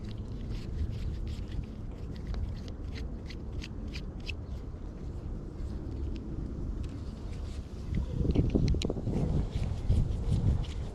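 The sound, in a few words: wind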